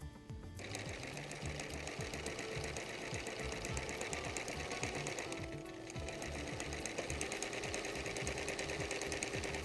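A sewing machine stitches bias binding onto a quilt, running steadily and close with a fast, even mechanical rattle, pausing briefly near the start and again midway before carrying on.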